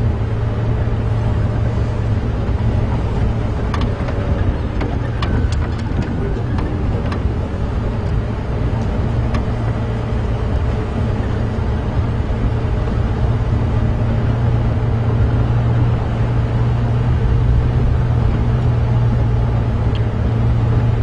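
Steady wind roaring and buffeting against the microphone on a safari drive, constant and loud, with a low rumble like an engine underneath.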